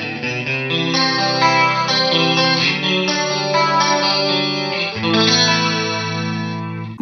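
Electric guitar played through the chorus effect of a Poly Effects Beebo multi-effects pedal, a sustained chord passage with a shimmering, wavering tone, loud and close, with no talking.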